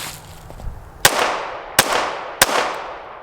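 Three sharp, loud gunshots from a Springfield Hellcat Pro pistol at a shooting range, spaced about a second apart, each ringing out with a long echoing decay.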